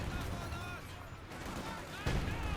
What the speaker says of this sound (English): Artillery fire just draining down there.